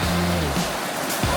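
River water rushes steadily at Nambalan River, a constant broad wash with low rumbling underneath and brief tonal noise near the start.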